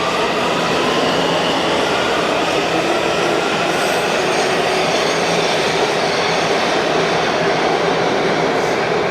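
A Washington Metro Silver Line train runs with a loud, steady rumble and roar of wheels on track, continuous for the whole stretch, with no talking.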